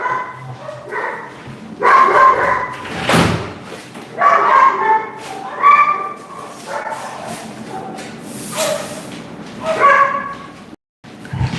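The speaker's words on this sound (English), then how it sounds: "These dogs going crazy. Y'all hear these dogs?" Dogs bark loudly and repeatedly nearby, in bursts of excited barking with thumps in between, continuing throughout.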